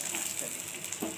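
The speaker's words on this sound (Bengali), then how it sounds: "বাটা মাছটা খুব ভালোভাবে ভাজতে হবে" Bata fish frying in hot oil for a Bengali jhal gives a steady, close sizzle. It is a dense hiss with no breaks over the short moment.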